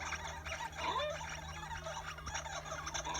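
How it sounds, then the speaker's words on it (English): A large cartoon bird from the animated short For the Birds lets out a warbling, gobble-like call with a swooping pitch near the start, over a busy, dense soundtrack. "What is with that Big Bird ripoff sounding like that?"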